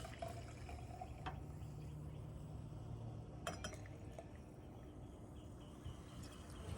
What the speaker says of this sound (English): we'll do a little pouring